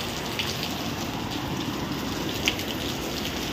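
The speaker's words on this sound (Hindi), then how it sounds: "ये देखो भाई, सुबह सुबह क्या मस्त बारिश हो रही है" Steady morning rain falls outdoors as a dense, even hiss of drops on surfaces, continuous and fairly close, with no voices.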